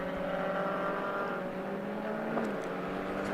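Race cars on the Silverstone GP circuit, engines droning and revving together with a passing surge near the end, at moderate distance under a steady background hum.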